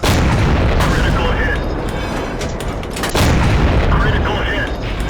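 Tank gun firing in World of Tanks, aimed at an enemy tank's tracks, heavy booming blasts over dense continuous battle noise, with a sharp loud shot near the midpoint and a voice talking over it.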